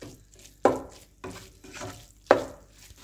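Egg and onion for anda bhurji stir-fried in a pan, with a soft steady sizzle broken by sharp scraping stirs of a spatula against the pan, about two loud strokes and several lighter ones.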